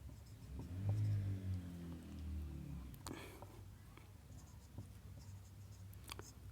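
A pen scratches faintly across paper as math is written out by hand, the light strokes sitting under a low background rumble.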